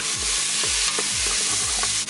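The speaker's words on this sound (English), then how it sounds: "We're going to brown this up for a couple of minutes." Beef browning in an Instant Pot gives a loud, steady sizzle with repeated stirring strokes, close up and with no talking.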